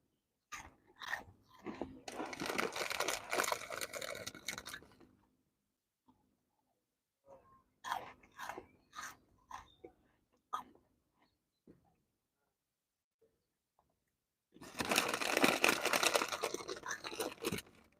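Aldi crisps are crunched and chewed from a packet at a lakeside carp-fishing spot, in three close, loud bouts of crunching separated by quiet pauses.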